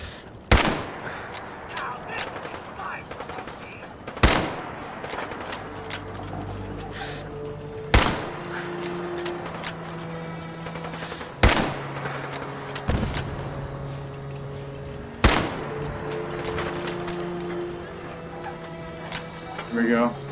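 Loud, sharp gunshots ring out in a wasteland survival video game, roughly five widely spaced single shots each followed by ringing decay, with a player's voice talking between them.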